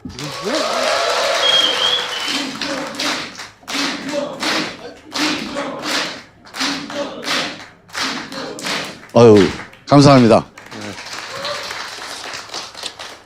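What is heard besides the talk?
audience applauding and cheering a guest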